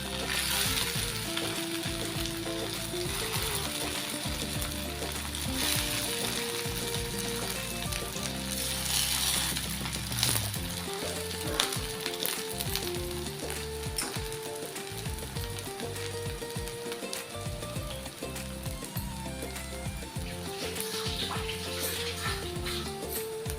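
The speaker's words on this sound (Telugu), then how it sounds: "ఇప్పుడు దీన్ని ఫ్రై చేసుకుందాం." Veg cutlets frying in hot oil in a pan, a continuous close crackling sizzle with occasional clinks and scrapes.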